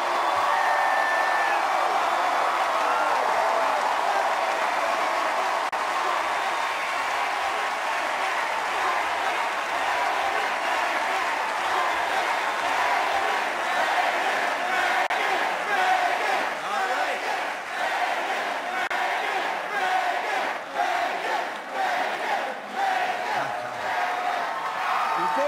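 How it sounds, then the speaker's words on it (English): A large theater crowd at a televised talent show roars continuously, cheering, yelling and clapping in a dense, sustained wall of sound that swells and stays loud throughout. "You got them on their feet and they're yelling Vegas because you came back"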